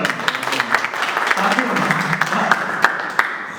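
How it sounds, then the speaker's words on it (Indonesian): An audience at a church youth worship service in Canggu breaks into applause, a brief burst of scattered clapping mixed with voices and murmuring in the room. "Tepuk tangan buat Yosua."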